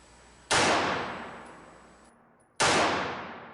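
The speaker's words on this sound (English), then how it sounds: "so it's just double action firing here" Two sharp, loud gunshots about two seconds apart from a Smith & Wesson Model 59 9mm semi-automatic pistol fired in double action, each a hard crack with a decaying ring-out and no talking between them.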